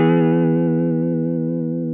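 A sustained guitar tone runs through a Walrus Audio Julia analog chorus/vibrato pedal set to triangle-wave modulation, with a steady warbling wobble that slowly fades.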